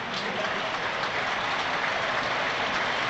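Football stadium crowd in a Sunderland versus Plymouth match applauds a substituted player leaving the pitch, a broad, dense roar of clapping that holds steady and fairly loud for the whole stretch.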